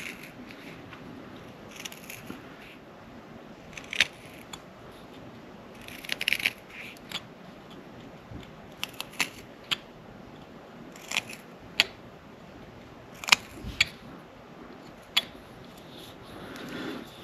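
Small knife carving a wooden mini snowman ornament, faint scattered scraping and clicking cuts at close range over a quiet background.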